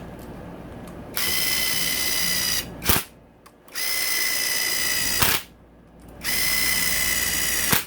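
A battery-powered impact driver on its lowest setting tightens bolts while rebuilding a 2017-2024 Honda CRF450R motorcycle engine, heard as three close whirring bursts, each ending in a sharp click before a short pause.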